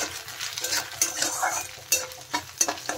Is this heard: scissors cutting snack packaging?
no